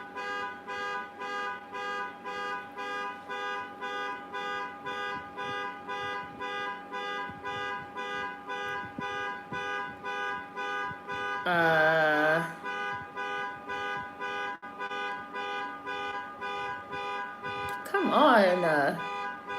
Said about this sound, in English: my neighbor's car alarm is going off